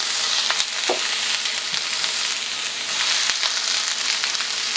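Peppers and onions sautéing in avocado oil in a cast iron pan, a loud close sizzle with occasional clicks and scrapes of a utensil stirring the vegetables, steady throughout and without speech.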